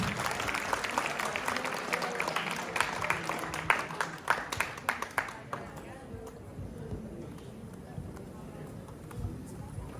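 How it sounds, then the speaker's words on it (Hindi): An audience claps loudly after a devotional drama staged by a youth girls' group, a dense burst of applause that thins out over several seconds, with voices heard in the background. "ताली बजाइए जोरदार।"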